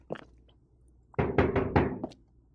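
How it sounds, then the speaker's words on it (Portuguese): Knocks on a door in the survival video game Rust, one soft tap followed by a quick set of four or five loud, close, hollow wooden knocks, then silence. "Bater na porta aqui."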